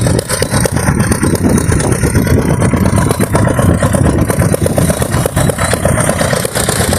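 A diesel power tiller engine runs steadily and loudly up close, its rapid chugging throb continuous throughout.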